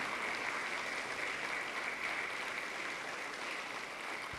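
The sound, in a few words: congregation clapping loudly in church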